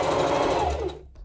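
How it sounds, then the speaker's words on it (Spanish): A sewing machine runs steadily as it stitches a seam along a kitchen apron waistband, a close, continuous mechanical whir that slows and stops near the end. "Aquí le voy a ir pasando la costura exactamente en medio de las dos líneas que cosí"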